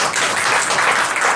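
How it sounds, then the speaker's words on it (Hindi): Enthusiastic audience applause at a public event in Nagda, a dense sustained clapping that fills the whole short moment without any speech. "इसके लिए एक बार जोरदार ताली।"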